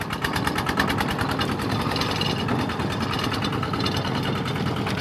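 A walking tractor of the kind used for ploughing rice fields runs close by on a rough farm track, its engine chugging in a fast, even rhythm with a rattling knock throughout.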